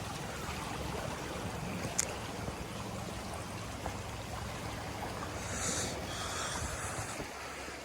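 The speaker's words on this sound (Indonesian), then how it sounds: "Ada aliran sungai yang deras, airnya cukup jernih guys." A fast-flowing river stream with clear water along a muddy hiking trail from base camp, heard as a steady, moderately faint rushing wash with a couple of brief sharp knocks.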